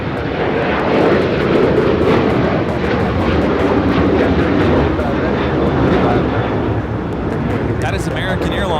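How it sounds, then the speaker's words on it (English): An American Airlines Boeing 737-800 takes off from Los Angeles International Airport, a loud, sustained jet engine roar filling the scene while voices talk over it throughout. "That is American Airlines 1467 taking off to Columbus on the 737-800."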